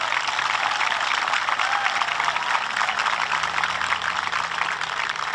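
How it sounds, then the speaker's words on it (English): A graduation audience at JF Webb High School's 2021 ceremony applauds honored Students of Merit. The many hands form a broad, even wash of clapping that continues unbroken for over five seconds. "Let's give these Student of Merits a round of applause."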